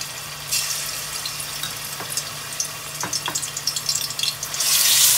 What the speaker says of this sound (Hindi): ऑयल गर्म होता है, उसके अंदर मैं लहसुन अदरक का पेस्ट शामिल करूँगी सबसे पहले।